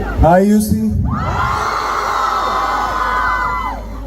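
A large college crowd at UC College erupts in cheers, whoops and shouts after Fahadh Faasil's line, a loud sustained roar that holds steady for several seconds before easing off.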